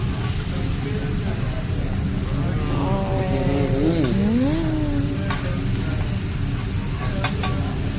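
Steak sizzles on a teppanyaki grill at a Japanese steakhouse, a loud, steady frying hiss throughout, with a person's voice talking over it midway and a few metallic clicks later.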